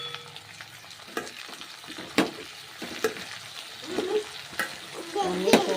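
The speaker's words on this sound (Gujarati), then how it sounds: "तो भींडो तेल में बफावा मूकी तेल में सड़वा मूकी दीधो छे" Okra frying in hot oil with cumin seeds, a steady close sizzle broken by sharp clinks and scraping as it is stirred in the pan.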